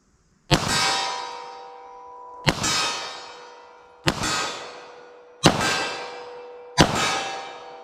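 Five evenly spaced 9mm pistol shots with Hornady Critical Duty ammunition, fired at 25 yards in a windshield test, each a sharp crack followed by a ringing decay, loud and without talking.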